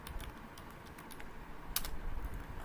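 Fingers type a folder name on a computer keyboard, giving a quiet run of soft, quick key clicks with one sharper tap partway through, all close to the mic with no talking.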